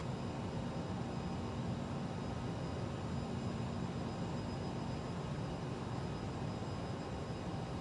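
Steady, loud jet engine roar from an airliner taking off in a flight simulator, a continuous broadband rumble with a faint high whine and no change in level, without voices.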